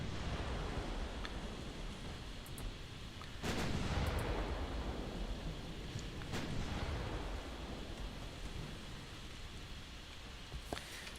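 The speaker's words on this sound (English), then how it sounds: "I would like the main guns to please shoot at him" Battleship main guns firing in Ultimate Admiral Dreadnoughts, a couple of heavy distant booms rising out of a steady roar of sea and wind noise, with smaller gun reports scattered through.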